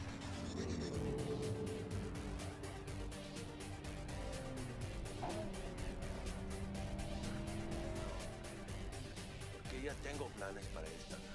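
A car drives through the city in the video game Cyberpunk 2077: a steady engine drone with shifting pitch and a brief tire squeal, underneath continuous talking.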